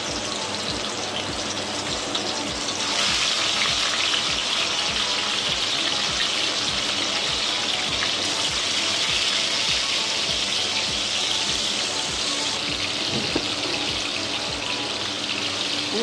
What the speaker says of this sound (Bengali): আমি ম্যারিনেট করা মাছগুলো একে একে ছেড়ে দিচ্ছি তেল।